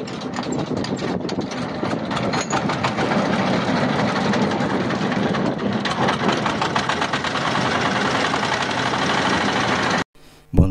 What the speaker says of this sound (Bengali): বন্ধুরা, আমাদের ট্রলারটি স্টার্ট নিয়ে নিল